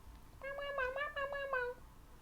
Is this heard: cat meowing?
yes